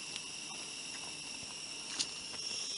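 Lingonberry jam simmers in a pot over slow heat, making a soft, continuous bubbling patter with faint pops, heard up close and quietly over a thin background hiss.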